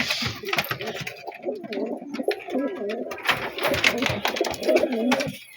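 Madras pigeons cooing nearby in soft, repeated throaty bursts, with faint rustling and a murmur in the background.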